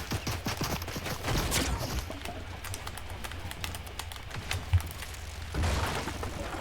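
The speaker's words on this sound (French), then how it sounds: "C'est moi, le bruit des balles," Gunfire in Fortnite bursts out in rapid clusters of sharp shots, loudest at the start and again near the end, with scattered single cracks between over a steady game background.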